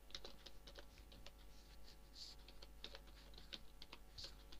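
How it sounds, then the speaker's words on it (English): Computer keyboard keys clack in an irregular, steady run as HTML code is typed, quiet and close over a low electrical hum. "after typing the text, after typing the code, save this page"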